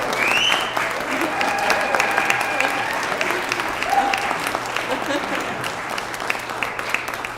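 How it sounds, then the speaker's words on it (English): A church congregation welcoming new members at a Sunday service breaks into sustained applause, a dense clapping wash with scattered whoops and a voice rising over it, filling the room and holding steady throughout. "Can't we give a cheer?"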